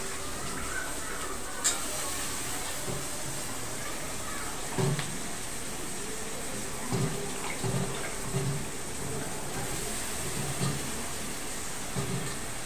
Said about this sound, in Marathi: आता आपण ही सोयाबीन आहे ना छानसं त्याचं पाणी काढून घ्यायचंय